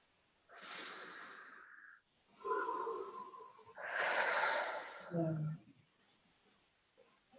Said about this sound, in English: And take another deep breath.